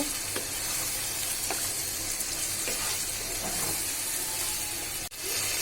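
Beef liver sizzling and frying steadily in a pan, with a loud continuous hiss and occasional light stirring scrapes, close up and without speech.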